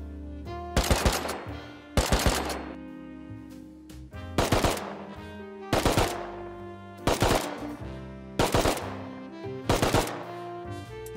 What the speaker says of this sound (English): Do you enjoy the burst fire module on the weapons?